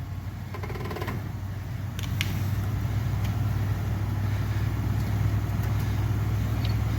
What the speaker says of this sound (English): Now start to give it just a little bit of gas, but don't spin the tires.